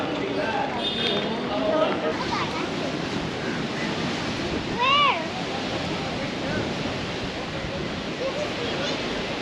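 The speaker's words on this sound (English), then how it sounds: "Here we are on the Indian Ocean, or would you prefer me to call it the Bay of Bengal?" Ocean waves wash along the Bay of Bengal waterfront at Pondicherry in a steady, noisy surf roar mixed with wind, with brief chirping calls and a passing louder swell midway.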